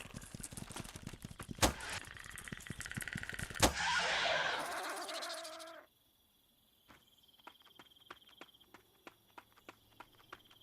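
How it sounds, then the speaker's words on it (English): Heavy footfalls of a large creature in an Unreal Engine 4 game thump at a running pace, loud and dense at first, then a short silence gives way to sparse, fainter ticks and taps. "it was his running on the ground sound. His feet thumping on the ground."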